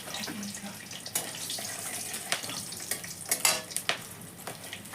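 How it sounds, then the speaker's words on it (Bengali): Cardamom, cinnamon and cloves sizzle and crackle in hot oil in a kadai, a soft hiss punctuated by sharp pops and spatters scattered irregularly throughout. "কয়েকটা এলাচ, দারচিনি, লবঙ্গ, এগুলো আমি সব ফোড়ন দিলাম।"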